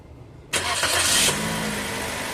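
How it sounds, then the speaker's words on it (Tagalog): A Toyota Vios car engine cranks and catches at about half a second, then settles into a steady, fairly loud idle with no talk. "tapos pa-start ko na itong makina."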